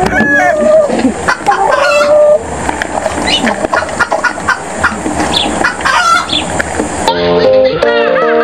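Chickens cluck busily at close range while a rooster crows clearly near the end, mixed with voices talking over the birds.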